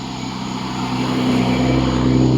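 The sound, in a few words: engine revving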